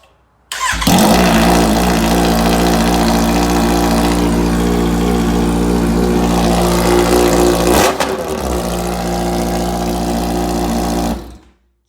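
Kawasaki Z900RS motorcycle with a full Yoshimura exhaust system starts and revs hard, a loud, raw, continuous roar held for about ten seconds before cutting off, with no talking.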